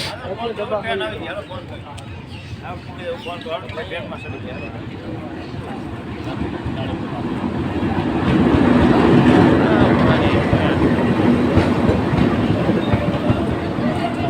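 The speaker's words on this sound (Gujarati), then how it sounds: "ટ્રેન આવે તાલારાવથી" A passenger train on the line from Talala toward Veraval runs close by with a continuous heavy rumble and rattling wheels that swell louder midway and stay strong to the end, while people talk over it.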